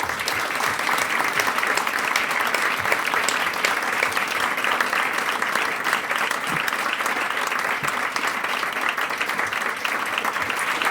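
Steady, full applause from a large audience welcoming a singer, a dense continuous roar of clapping that holds at an even, loud level throughout without pause.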